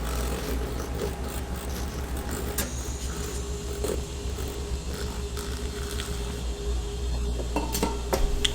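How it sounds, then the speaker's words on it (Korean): Earl Grey powder and fresh cream are whisked in a bowl, making a steady run of rapid, close clinking and scraping strokes over a low background hum. "얼그레이 파우더에 생크림을 넣어 줄게요. 이 녀석을 휘핑을 잘 쳐줄게요"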